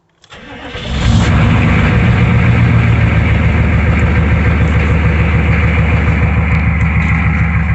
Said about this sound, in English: As you can see, my truck is running perfectly normal.